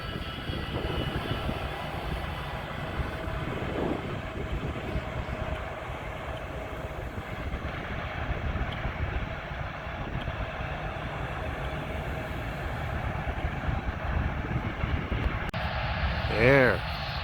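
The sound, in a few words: Boeing 787 airliner flying past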